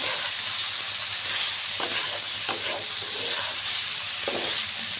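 Hilsa fish head and vegetables frying in a pan while being stirred, a steady close sizzle with scattered scraping clicks from the spoon throughout.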